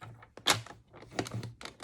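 A tool scores fold lines on card for a pop-up staircase greeting card, making a series of close, dry scraping and tapping strokes with one sharper knock near the start.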